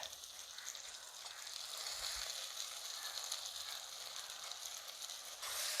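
Sliced onion and tomato sauté in a pan, producing a soft, steady sizzle with faint clicks of stirring, quiet and continuous throughout, no talk.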